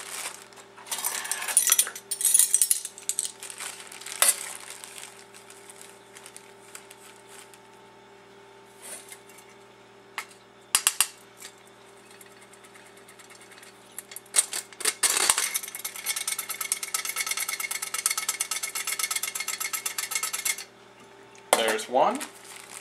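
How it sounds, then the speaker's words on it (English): Ground ginger sifted into flour with a hand sifter, giving bursts of rapid metallic rattling and scraping that start and stop across the stretch, fairly close and moderately loud, with quieter pauses between. "And then we need to sift in 2 teaspoons of ground ginger."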